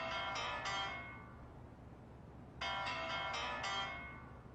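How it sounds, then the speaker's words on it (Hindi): A mobile phone ringtone goes off in a classroom, playing two bright, repeating melodic bursts separated by a short pause, fairly loud and close over quiet room tone. "ये किसका फोन बज रहा है?"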